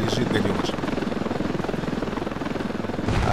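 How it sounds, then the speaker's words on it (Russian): Enemy helicopter in the video game Ravenfield, a steady loud rotor drone filling the whole stretch with a rapid pulsing thump, mixed with game noise and a little talk. "Вертолет, по-моему, вражеский все-таки летает."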